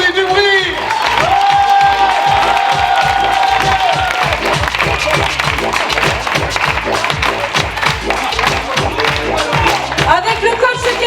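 Audience applause with cheering and whoops at a closing show, dense continuous clapping from a crowd that stays loud throughout, with an announcer's voice over it at times.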